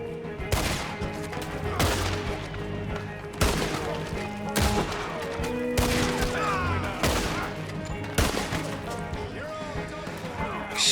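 Repeated gunshots ring out in a Red Dead Redemption 2 firefight, sharp loud cracks arriving every second or two over a busy backdrop of game ambience and other battle noise.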